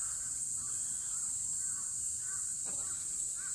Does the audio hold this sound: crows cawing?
yes